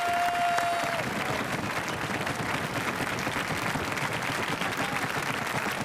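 Steady audience applause fills the whole stretch, a dense wash of clapping from a large television studio crowd at a karaoke show.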